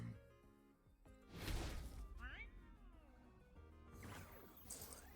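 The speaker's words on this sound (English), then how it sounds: "these dumb cats, they just stare at you and meow." A house cat meows from close by, with soft room noise and a few bumps while someone moves around indoors.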